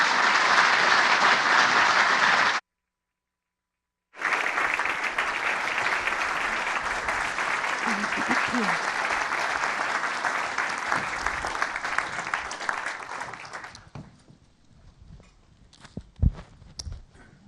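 An audience applauds as panelists walk onto a stage at a book event in a theater, sustained loud clapping from a large crowd that cuts out briefly, then returns and fades away.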